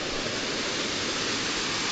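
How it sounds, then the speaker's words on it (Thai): Small roadside waterfall in a high mountain village in Laos, water pouring in a steady, dense rushing roar that fills the scene close up, with no voices. "น้ำตกขนาดน้อยตามถนนหนทาง"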